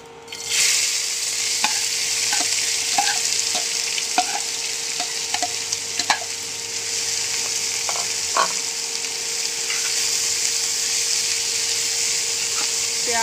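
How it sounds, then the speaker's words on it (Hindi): Chopped onions and half a spoon of cumin frying in hot oil give a loud, steady, close sizzle throughout, with occasional light scraping taps from stirring. "अपना तेल चिट्टा हो गया, बिल्कुल घ्यो की तरह हो गया। हुण आपां इहदे विच पावांगे अद्धा चमच जीरा। विच आपां प्याज पा देंगे।"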